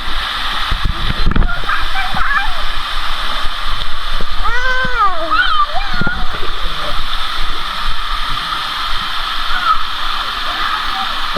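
Splashing water as people jump into a pool or river at a birthday outing, broadband wash under excited voices and shouting throughout, with a louder splash burst near the start.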